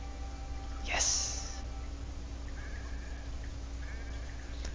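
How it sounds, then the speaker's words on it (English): A sheep bleats once in the Renowned Explorers video game, a short loud cry over steady game music and ambience, followed by faint tonal game effects. "Uncoordinated sheep."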